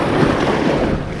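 Strong waves stirred up by a passing boat surge against a lakeshore, a dense continuous wash with wind rumble on the microphone and no talk.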